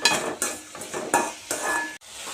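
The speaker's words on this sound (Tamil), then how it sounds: "கல்லுப்பு சேர்த்திட்டு நல்லா தக்காளி குழைய வதக்கிக்க வேணும்" Tomatoes sautéed with rock salt in a pan, heard as five or six brisk, rhythmic scraping stir strokes over a light sizzle, close and fairly loud, with no voices.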